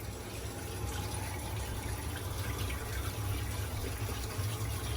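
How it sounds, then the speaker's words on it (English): Hot water runs continuously through a domestic boiler heating system during a Magnacleanse flush, a steady rushing, hissing flow with a low hum underneath, unchanging throughout. "So it's running now, is the hot water."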